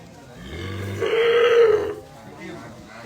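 A young elephant, moved from Phu Wua Wildlife Sanctuary in Bueng Kan to an elephant farm in Chiang Mai, lets out a single low, droning call lasting about a second, close by, with faint voices around it.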